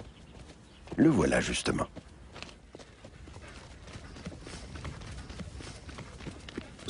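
An Appaloosa stallion of Spanish blood walks with clip-clopping hooves, the hoofbeats soft and irregular under a brief loud burst and someone speaking.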